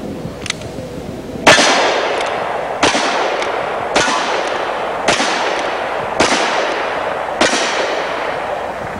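An old single-action Colt-style revolver fires six loud, sharp shots about a second apart, each with a ringing echoing decay, at a 1990 shooting exhibition.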